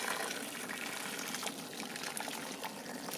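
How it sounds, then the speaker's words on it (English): Boiling water poured into a pot over basil and chicken for stock, a steady gushing, splashing pour at low level with no voices. "And then onto that, some boiling water."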